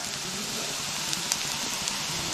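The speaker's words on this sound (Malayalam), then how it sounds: "ഇനി നമുക്ക് ഇതിലേക്ക് ഈ മുളക് പൊടി കുരുമുളക് പൊടി ചിക്കൻ മസാലയും മൂന്നും കൂടി ചേർത്ത് കൊടുക്കാം" Chili powder, pepper and chicken masala sizzle in a pan as a dense, steady crackling hiss with a few tiny pops, close and continuous.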